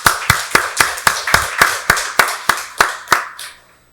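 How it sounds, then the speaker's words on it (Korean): A church congregation claps together at a Sunday worship service, giving about a dozen sharp unison claps in a steady, even beat that stops after the last clap, with no talking. "박수로 하나님께 영광 돌리겠습니다."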